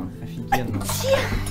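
A single sharp sneeze from a person bursts out mid-conversation while wine glasses are being filled at a reality-show gathering, with voices chatting before and after it.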